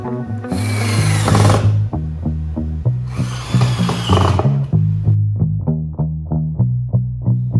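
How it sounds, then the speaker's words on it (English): A power drill drives pocket-hole screws into wood for a DIY bathroom stool, its motor whirring loudly in two long pulls, then buzzing in short rhythmic bursts as the screw seats. "Then I went ahead and drilled everything into place."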